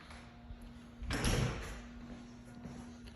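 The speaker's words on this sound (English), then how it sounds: "Let me shut this door here." A garage door is pulled shut with a single muffled thud, loud and close, followed by a quiet room hum.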